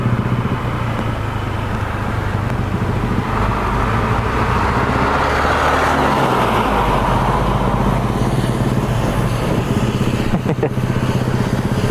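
A truck passing on a rural road trip route, its engine rumble and tire noise swelling loudly as it goes by close, then fading under steady road and wind noise.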